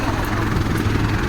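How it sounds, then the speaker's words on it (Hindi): A large helicopter carrying politician Prahlad Singh Patel arrives, its rotor and engine drone loud and steady throughout, with people talking underneath. "हाँ इतनी बड़ी हेलीकॉप्टर आई"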